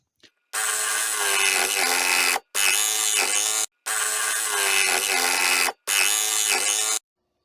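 A power saw cutting through plywood for a teardrop trailer wall, loud and close, running in four long sustained passes with short pauses between, no talk.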